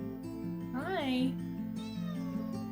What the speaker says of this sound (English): I'm gonna try and get some cute footage of the kitty cats up here.